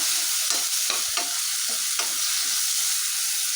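Coriander and mint are stirred into home-style chicken biryani in a sizzling pan, with a spoon scraping in several quick strokes over a constant hiss of frying, close and fairly loud.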